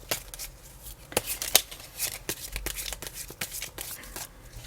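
Tarot cards shuffled by hand before an extra card is drawn, a steady run of soft riffling slaps and brushes close up, with a few sharper snaps along the way.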